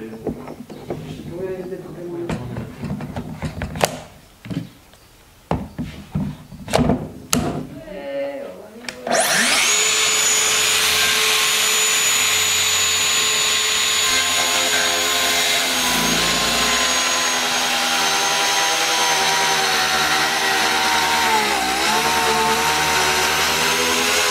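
A circular saw whines steadily through a cut with a better-suited blade, loud and continuous, after several seconds of sharp knocks and clatter.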